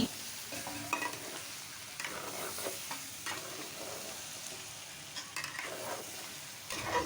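Beef and potatoes being stirred into polao in a pot for a homemade beef biryani, a steady scraping and stirring with soft sizzle throughout, with a few sharper knocks of the spoon, close and moderately loud, no voices.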